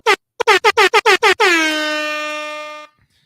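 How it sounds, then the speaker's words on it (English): Loud air horn blasts: a single short toot, then about seven quick staccato honks, ending in one long sustained blare that cuts off. "give me an air horn quick"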